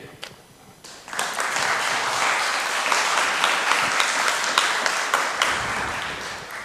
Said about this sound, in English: I hope you can hear that applause.